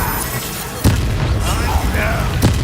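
Confringo fire spell explosions in the video game Hogwarts Legacy, with sharp booming blasts near 0.8 s and again around 2.4 s over a dense game soundscape, while a voice shouts spell names.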